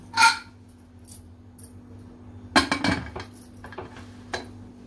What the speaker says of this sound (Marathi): आता कुकर आपण बंद करून घेऊया.